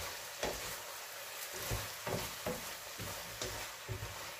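Shrimp sizzle in a pan for a watermelon rind vegetable dish, with a spatula scraping and stirring in a regular rhythm over a constant close frying hiss; no one speaks.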